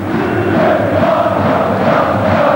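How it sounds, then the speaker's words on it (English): Steady roar of a football crowd at a 1998 World Cup qualifier between Turkey and Wales, a dense, continuous wash of cheering fans filling the stadium throughout. "The fans cheer"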